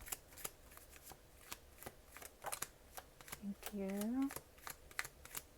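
A deck of tarot cards is shuffled in a rapid series of crisp riffling flicks, close and fairly quiet, with a brief spoken word near the end.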